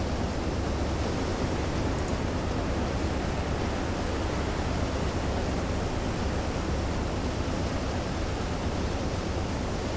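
Stormy seas in the submarine game Silent Hunter 3, a steady, dense roar of wind-driven waves and surf that holds at one level for the whole stretch, with no voices.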